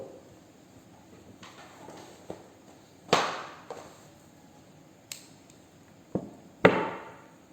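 Sharp snips of scissors or crimping pliers cutting network cable for a straight-through installation, several separate crisp cuts spaced apart, two louder clacks near the middle and end, faint otherwise quiet room.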